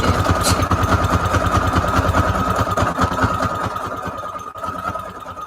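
A sewing machine runs a zigzag stitch on fabric for a junk journal cover, a rapid even mechanical rattle that keeps going nearby and eases slightly toward the end, with no talk.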